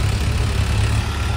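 A tractor engine runs loud and close with a steady low rumble, no talk, while soil is being loaded alongside a JCB.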